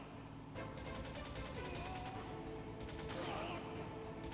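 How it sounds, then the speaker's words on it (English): Sustained gunfire in the Metal Gear Solid escape sequence as shots keep pouring at Liquid, a dense, steady rattle of bursts with game engine and vehicle noise running underneath throughout. "Keep on shooting him and don't stop shooting."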